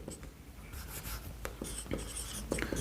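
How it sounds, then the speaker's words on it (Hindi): A pen scratches out a maths solution by hand on paper, with soft, close strokes and taps in short uneven bursts over a quiet background. "हम लोग यहाँ पे डायरेक्टली लिखते हैं"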